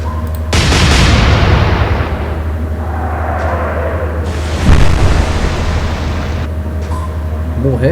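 A warship's naval gun salvo in the Atlantic Fleet game, German side: a loud booming blast of guns firing, followed by a whistling shell flight and a second thudding impact, with a steady low hum beneath.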